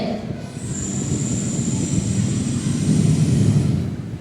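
A person imitates a landing airplane with a low, steady roar and rising whine that swells and holds, with no talk over it.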